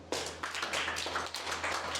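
Children in a classroom clap in a brief, scattered burst of hand claps, fairly faint and slightly distant, against a low steady hum.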